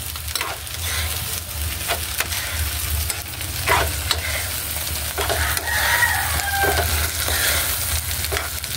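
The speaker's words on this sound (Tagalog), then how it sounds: "Haluin na po." Corned beef and potatoes fry in a pan with a continuous sizzle while a spatula scrapes and stirs at irregular intervals; a rooster crows faintly in the background.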